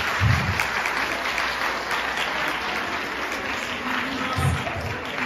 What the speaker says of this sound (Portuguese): estes aplausos são para a formadora